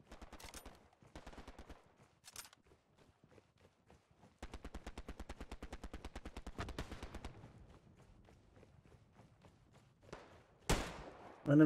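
Rapid bursts of gunfire in the WWII shooter game Hell Let Loose, with several short volleys early on, a long sustained automatic burst in the middle and a loud crack near the end, mid-distance with faint voices between.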